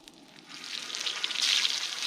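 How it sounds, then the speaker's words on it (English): A steak sears on a super-hot Skottle griddle alongside cooked onions, a soft hiss that quickly swells into a steady, brighter sizzle, with no talking. "We're going to drop this steak on there and start searing it."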